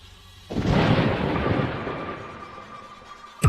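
A thunder sound effect in an animated story cracks suddenly and rolls on as a loud, sustained rumble that slowly fades, with a sharp second crack at the very end and no voices.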